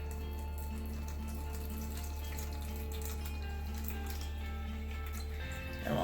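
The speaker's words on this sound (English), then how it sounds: "And we'll let that drain out a little bit." Excess water draining off sprouting seeds, a quiet continuous trickle with light patters and drips, with a brief louder splash near the end.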